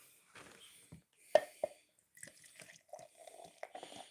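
A frothy drink poured into a frosty mug: soft, uneven trickling and dripping splashes, close and fairly quiet, with brief pauses between spurts.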